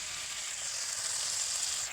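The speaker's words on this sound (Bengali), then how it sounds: "মা পাঠিয়েছিল হচ্ছে বিট, আর আমি তার সঙ্গে একটা আলু কেটে দিয়ে একটু ভাজা ভাজা করে নিচ্ছি" Sliced beetroot and potato fry in oil with a soft, even sizzle. The hiss is continuous and fairly quiet, without talk.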